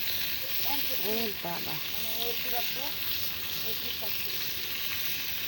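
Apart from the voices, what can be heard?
wood-fired clay stove burning strongly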